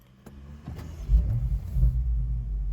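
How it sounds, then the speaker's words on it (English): BMW M5 engine starting inside its garage: a few faint clicks, then a deep, close rumble as the engine fires and settles into a throbbing idle with slight swells. "so now we've got the driver tags attached, we'll just start the vehicle"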